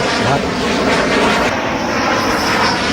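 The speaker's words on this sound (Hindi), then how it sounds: "देखिए पहली तस्वीर दिखा रहे हैं टच डाउन की, दूर से आपको दिखाई दे रहा है राफेल लड़ाकू विमान" A Rafale fighter jet touches down at Ambala airbase with a loud, steady broadband engine roar that fills the whole stretch without a break, and a voice talks faintly underneath.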